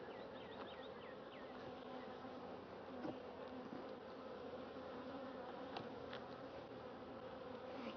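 Honey bees buzz loudly and continuously in an opened beehive during spring nectar flow, a dense close drone with individual bees whining past, no talk.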